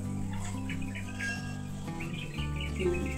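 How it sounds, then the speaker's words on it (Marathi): High, thin chirps from bulbul chicks repeat in quick bursts against a steady droning background hum. "मोबाईलवर थोडं सर्च केलं तर हा बुलबुल पक्षी आहे असं समजलं"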